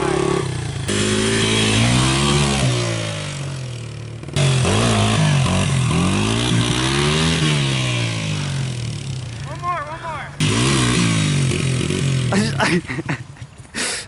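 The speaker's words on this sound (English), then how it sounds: "Dale, open the throttle up, dude." Motorcycle engine revving loud and close as the throttle is opened at a DIY skatepark, with repeated rising and falling revs and clattering, and people talking over it.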